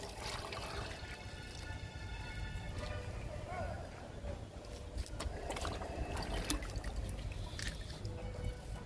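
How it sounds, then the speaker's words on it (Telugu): Kitchen-waste liquid fertilizer poured from a container onto a cherry plant, a steady trickle and splash of liquid against a continuous background hum, with voices nearby. "లిక్విడ్ ఇస్తున్నాను చెర్రీకి"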